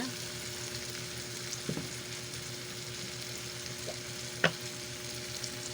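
Bitter gourd (ampalaya) frying in a hot pan, a steady low sizzle running throughout with a few soft stirring clinks and one sharper utensil tap near the end.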